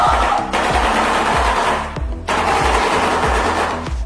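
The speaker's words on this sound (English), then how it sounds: "This is a shoebill." A shoebill's rapid, rattling clatter, like machine-gun fire, runs in close, loud bursts with a brief break midway, over a low rhythmic musical backing.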